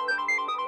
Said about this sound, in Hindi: राहुल, राहुल मेरा फोन उठाओ